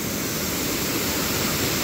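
Forceful water pouring down TK Falls during high flow, a dense, steady roar filling the whole short stretch without pause.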